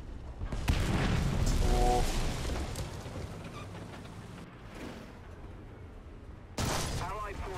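Tank cannon fire in the War Thunder video game booms across a rumbling battle, with a heavy low blast early and a sharp shot near the end, under engine noise.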